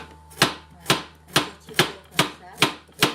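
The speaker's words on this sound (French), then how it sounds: "je vais couper des carottes" A knife slices carrots into rounds on a cutting board, seven sharp, evenly spaced chops in a steady rhythm, close and crisp with no talking.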